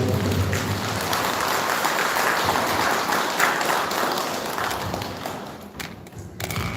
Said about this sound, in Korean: 다음은 우리 격려의 박수